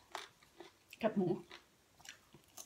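Crunchy pork rinds chewed up close during a Thai spicy papaya salad meal, one short burst of crisp crunching amid soft, quiet background sounds.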